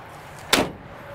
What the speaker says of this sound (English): Soft release tailgate.